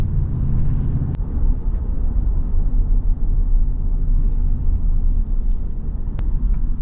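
A 2021 Ford F-250 Super Duty heavy-duty pickup on the move gives a loud, continuous low road rumble with engine drone, heard from inside the cab, plus two brief sharp clicks.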